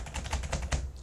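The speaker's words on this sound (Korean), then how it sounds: "키보드를 열심히 두드리고 있어요" Rapid typing on a computer keyboard, a quick run of close, crisp key clicks with a few heavier keystrokes, alone without speech.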